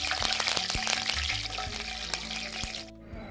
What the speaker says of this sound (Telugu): ఇప్పుడు ఈ ఆయిల్లో మనం కొద్దిగా మీడియం ఫ్లేమ్లో పెట్టుకొని కరివేపాకు వేసుకోండి.